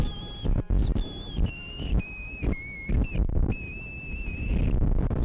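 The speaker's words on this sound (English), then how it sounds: "the ending whistling sounds to me like a patriotic standard warped and distorted all to hell" A distorted, heavily lo-fi whistled melody closes a track by a band, sustained tones shifting pitch over a blown-out, noisy backing that drops out briefly between phrases.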